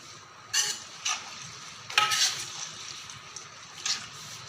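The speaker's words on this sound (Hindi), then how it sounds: "अब हम मसाले में अंडे ऐड करेंगे जो हमने फ्राई कर लिए हैं और इसको मिक्स कर देंगे" Fried eggs are stirred into a spice masala in a pan, giving a soft steady sizzle broken by a few brief scraping strokes, close and fairly quiet, with no talking.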